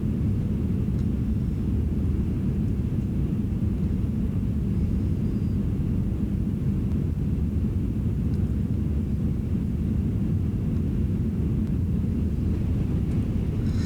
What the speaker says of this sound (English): There's an art to landing this plane nicely.